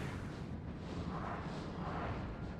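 Canister shot artillery fire in the video game Napoleon Total War rumbles as a low, continuous booming roar, moderately loud and sustained throughout with no voices over it.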